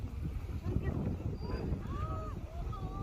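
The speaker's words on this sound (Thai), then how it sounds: "ลมแรงนะครับ" Strong wind buffets the microphone on a mountain in Gangwon Province, a constant low roaring rumble with gusty swells, while a voice speaks briefly beneath it.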